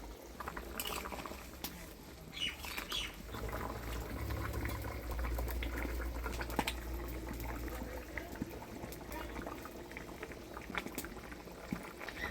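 Bengali fish curry gravy with ground spice paste and water boiling in a pan, a faint, continuous bubbling simmer with occasional soft pops.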